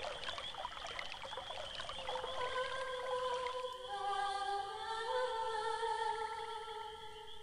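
Water pours and trickles in the video game Quest for Glory V, a steady splashing stream mixed with ringing tonal game music, with no voices.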